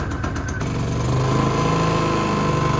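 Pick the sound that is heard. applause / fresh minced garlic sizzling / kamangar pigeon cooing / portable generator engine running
portable generator engine running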